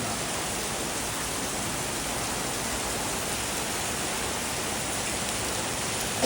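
Rain pouring steadily near Tagapo by a 7-Eleven, a dense, even hiss of drops that fills the whole stretch at constant loudness with no voices.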